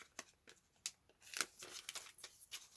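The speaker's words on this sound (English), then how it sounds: "So I'm just going to cut another piece out." Scissors snip through plastic packaging in a series of sharp, crisp cuts and crinkles at an uneven pace, close and fairly quiet with no talking.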